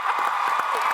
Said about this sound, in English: Big cheer to Phil